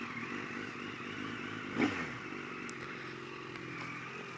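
A 2007 Yamaha FZ1 motorcycle engine rumbles steadily at close range, its exhaust droning with a brief rev partway through, no voices.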